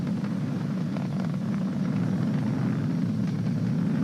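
A SpaceX Falcon 9 rocket carrying Crew Dragon climbs past supersonic speed during launch, its engines heard as a steady, distant, deep roaring rumble that holds without a break.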